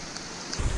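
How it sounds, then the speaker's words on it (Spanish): Rain falls steadily at a campsite in La Marta, a soft, even hiss with a low thump building near the end of the brief moment. "¿Sabes por qué está lloviendo?"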